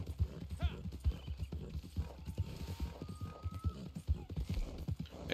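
Rhythmic horse hooves clop steadily at a trotting pace in the video game Red Dead Online, with a short whinny and faint mechanical clicks in the background.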